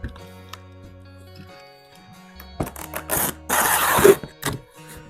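Packing tape pulled off the roll and pressed along a cardboard box seam, heard as a few ripping, crackling bursts in the second half, preceded by quiet low hum and small handling clicks.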